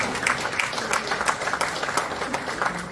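Audience applause at a Korean People Power Party Christian fellowship breakfast prayer meeting, a steady wash of clapping from a hall full of people, continuous for the whole stretch.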